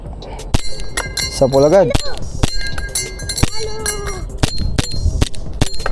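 Airsoft pistol rated around 340 to 370 FPS firing a series of sharp, loud shots, each followed by a metallic ring as pellets strike a magnetic steel Texas target, while someone talks between shots.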